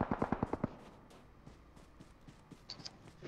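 Burst of rapid close-range gunfire in PUBG (BGMI), about six sharp loud shots in quick succession at the start, then quieter scattered thuds and faint game sounds.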